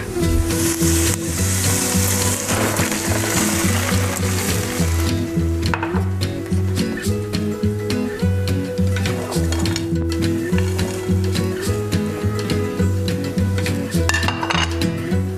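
Wine and green peas sizzle and fry in a frying pan, with steady crackling, while a utensil stirs and clinks against the pan in irregular taps throughout, close up and with no talking.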